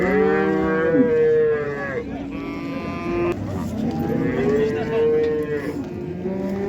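Several cattle moo at a livestock bazaar in Karshi. The drawn-out, wavering calls are loud and overlap one another, with crowd murmur in the background.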